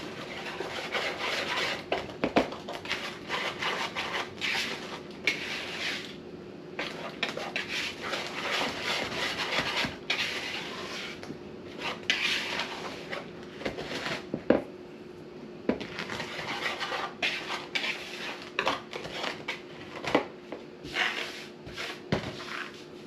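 Low carb zucchini bread batter mixed in a bowl produces repeated clinks, knocks and scraping rubs of a utensil against the bowl, irregular and close over a faint steady hum.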